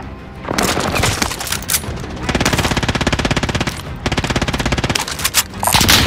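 Submachine gun fire in Call of Duty: Modern Warfare: loud, close, rapid automatic bursts with a steady rattling rhythm, broken by short pauses and followed by more sustained volleys.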